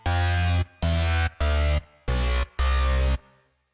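Five loud, gritty synth bass notes from the Serum Angle Grinder preset, each held about half a second with a hard cutoff and a short gap, the last one ringing slightly longer before fading, with no voices.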